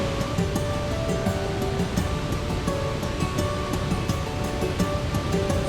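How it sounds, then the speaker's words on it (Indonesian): Curug Sodong, a waterfall about 20 meters high with a strong flow, gives a loud, constant roaring rush of falling water that never lets up. "Ketinggian air terjun ini sekitar 20 meter dengan debit air yang cukup deras."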